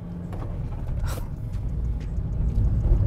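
A 2010s Suzuki Splash with a manual gearbox accelerating gently in stop-and-go driving, its engine a low, steady rumble that swells slightly toward the end, heard from inside the cabin with no talking.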